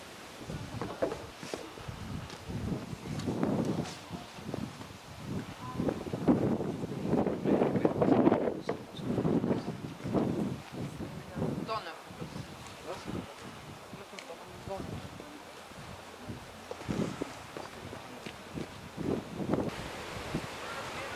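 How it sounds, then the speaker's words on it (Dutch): Cold, cutting wind gusts across an open, icy landscape near Falkenstein Castle, rising and falling in steady, moderately loud rushes of buffeting noise. "Een snijdende wind."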